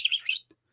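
A single bird gives a brief, high chirping trill lasting under half a second, clear and close, followed by silence.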